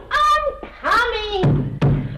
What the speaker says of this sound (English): Are you trying to knock the door down?